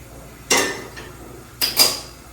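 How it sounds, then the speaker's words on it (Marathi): A metal tava griddle is set down on the stove in a home kitchen. Two sharp metallic clanks come about a second apart against a quiet background. "आता मी तवा तापत ठेवते"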